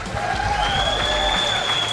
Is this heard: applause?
yes